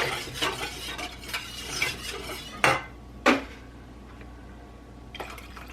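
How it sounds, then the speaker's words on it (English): A metal whisk stirs roux and milk in a pan, making quick scraping and clinking strokes against the metal, with a couple of louder taps partway through and a soft background hum. "And you just want to whisk this up."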